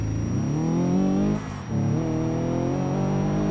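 Subaru engine revving hard in BeamNG.drive, a loud, close harmonic engine note climbing under acceleration, briefly dropping off during a gear change, then rising again.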